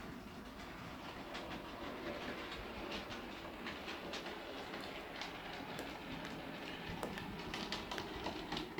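A C-Class model railway train runs through a tunnel on a layout, giving a steady, quiet rolling rumble with faint clicking of wheels over rail joints, continuous throughout with no talking.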